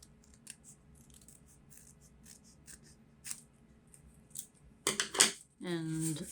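Scissors snip through a paper bag for a kids' craft puppet, a few faint scattered cuts followed by louder crisp snips near the end, where a voice starts to speak.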